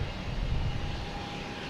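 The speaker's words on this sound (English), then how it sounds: "next to arrive is American Airlines" An American Airlines airliner arriving at Boston Logan Airport rumbles with a steady, broad engine roar at moderate distance, holding fairly even throughout with no voices.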